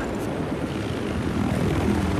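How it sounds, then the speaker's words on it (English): A transport helicopter in Battlefield Hardline on the Downtown map drones with a steady, loud rotor and engine roar that fills the whole stretch, with no talk. "They got a transport chopper."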